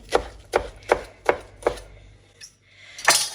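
A knife chops on a board in five even, sharp strokes, followed by a softer tap and a louder scraping clatter.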